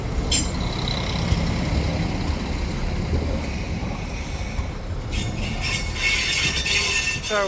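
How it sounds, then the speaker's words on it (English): Continuous low rumble of a train arriving at Stará Ľubovňa, Slovakia, with a brief high squeal near the start and again toward the end, loud and close, no talking. "Here comes the train."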